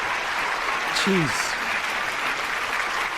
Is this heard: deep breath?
no